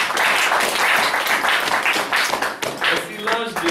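Applause and clapping fill a church as the congregation acclaims the Lord, dense and steady throughout with voices cheering and calling out in the crowd.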